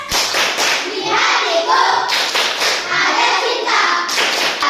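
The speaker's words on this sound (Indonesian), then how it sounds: "sebelum memulai pelajaran kita akan melakukan tepuk sukses" A classroom of young students performs the 'tepuk sukses' rhythmic clapping chant, loud patterned clapping in repeated bursts with children's voices chanting along.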